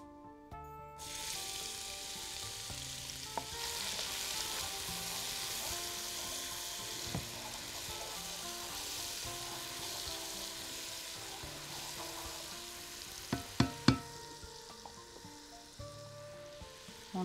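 Onion frying in a pan for vegetable rice with grated ginger gives a steady, close sizzle. Faint tonal hum runs underneath, and a few sharp clinks land near the end.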